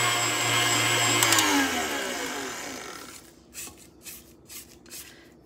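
An electric hand mixer whirs loudly on high speed through sweet potato pie filling for about three seconds, then cuts out, leaving faint clinks and soft scraping in the bowl.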